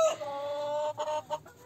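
Laying hens cluck close by in a short burst, a drawn-out squawking call followed by a couple of quick clucks, with no talking over them.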